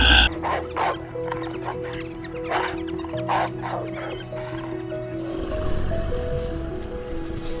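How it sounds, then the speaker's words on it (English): African wild dogs on a hunt, heard as a run of short yips and whimpering calls over steady background noise, with a rougher washing sound taking over toward the end. "African wild dogs hunt with absolute coordination, exhausting their prey before bringing them down."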